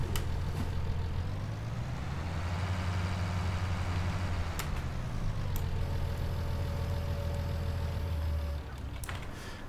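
Tractor engine idling in a farming survival game, a loud, steady low rumble with a shifting drone, brief clanks and a faint beep near the end before the sound drops slightly.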